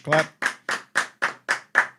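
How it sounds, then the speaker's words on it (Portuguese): Rhythmic clapping in tribute, seven evenly spaced loud claps from a small group, close and alone without talk. "E vamos um salve de palmas pros dois aí, né?"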